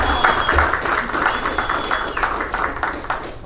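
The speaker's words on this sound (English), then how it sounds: "please give a round of applause to our chief of police" A community meeting crowd applauds the police chief in a dense, even burst of clapping throughout, with a voice briefly audible underneath.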